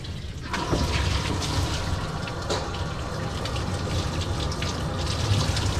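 Running water sprays steadily while a matted dog is rinsed during grooming, a continuous close hiss of flowing water with no talking.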